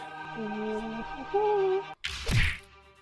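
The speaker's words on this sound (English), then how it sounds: "With a thud, Fawn punched the man in the face." In a fantasy visual novel, a single punch lands as a sharp thud with a whooshing impact, following a stretch of calm background music that cuts out just before the hit.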